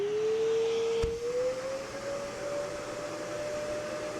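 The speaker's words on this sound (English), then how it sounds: "When you're vacuuming, you actually have something lodged in the hose" A shop vac runs with something lodged in its hose, giving a steady whine that climbs slightly in pitch after a brief knock, holding a continuous whistling tone over a low motor rumble.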